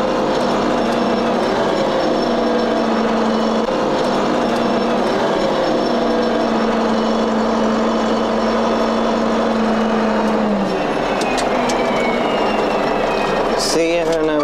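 A Ford 7610 tractor engine runs steadily and loud up close, its pitch dropping audibly as it downshifts near the end, followed by brief mechanical clatter.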